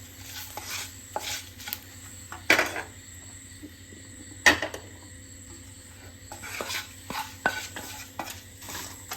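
Dry poha flakes tipped into a pan for frying, giving faint rustling with light stirring and a few metal clinks of spoon against pan, plus two sharper knocks, in a quiet kitchen.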